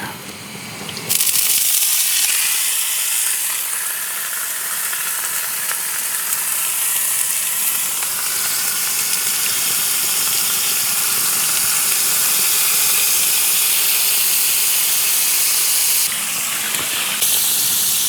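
Flank steak with garlic hitting a hot pan bursts into a loud, close, steady sizzle that hisses on for about fifteen seconds before cutting out.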